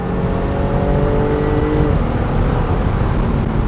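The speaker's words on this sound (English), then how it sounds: "Hear that supercharger?" A supercharged 2017 Jaguar F-Type roadster engine drones loudly from close by, its steady, tonal hum shifting pitch partway through with no one talking.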